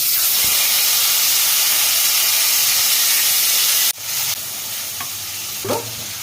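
Onion paste hits hot oil with prawns and a bay leaf, giving a loud, steady hiss of frying that drops in intensity midway as stirring continues up close.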